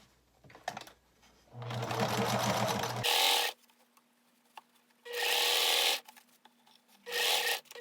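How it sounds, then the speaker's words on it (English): A sewing machine runs in three separate bursts as a dress is sewn, each a steady mechanical whir lasting about a second, with quiet rustling of fabric in the gaps. "going to sew up the dress"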